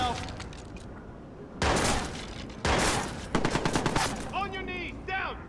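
Gunfire in the Watch Dogs video game: sharp bursts and rapid volleys of shots crack out in clusters, loud and close, with brief quieter gaps between.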